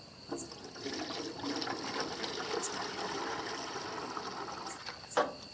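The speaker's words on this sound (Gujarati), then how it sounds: "તો આ આવી ગયું છે પાણી અને આની અંદર નાખીએ" Water pours steadily into a homemade desi air cooler, a continuous rushing, splashing stream lasting several seconds, close by, with a brief sharper splash near the end and no talking.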